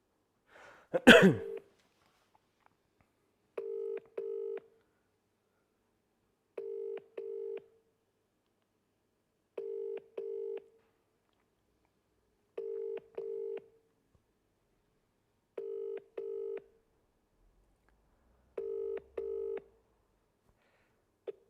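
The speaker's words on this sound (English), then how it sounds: "Right, let's give John a call" A cough or throat clear, then a telephone ringback tone purrs in steady double bursts, seven pairs spaced evenly, clear and alone while a call is placed.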